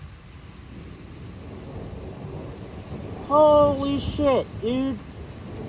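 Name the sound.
thunderstorm with thunder and rain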